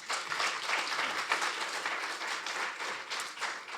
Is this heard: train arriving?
no